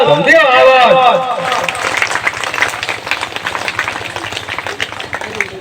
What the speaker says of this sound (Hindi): महिला के सशक्तिकरण के लिए जोरदार ताली और दियो आवाज